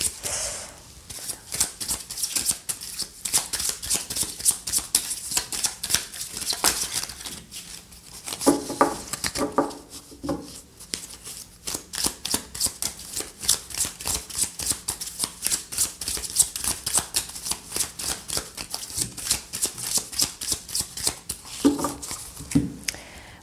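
Tarot cards shuffled and cut by hand, a fast, close run of crisp riffling flutters and soft slaps repeating in steady bursts, with brief pauses and no talking.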